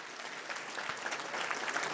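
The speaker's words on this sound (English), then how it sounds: "Y'all can clap." An audience at a legislative briefing and reception applauds in a short, even burst of clapping, moderately close and filling the room.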